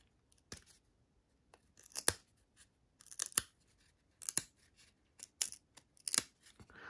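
A stuck-together 1994-95 Donruss NHL hockey card pack is worked open in several sharp, close bursts of crinkling foil and tearing. Quiet gaps fall between the bursts and no one talks.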